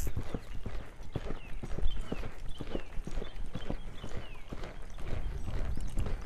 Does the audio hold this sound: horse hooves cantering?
yes